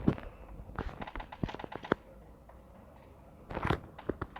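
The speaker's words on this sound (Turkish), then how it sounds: "Bak şimdi yanımda patlar benim bombam" Sharp bursts and thuds of a grenade blast and gunfire in PUBG Mobile Lite, a cluster of loud cracks early on, a quiet stretch, then another rattling burst near the end.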